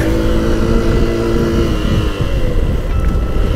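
A motorcycle engine revs up close in the Nepal hills. It gives a loud, throaty drone with a harmonic whine that rises and falls, then settles into a rougher rumble.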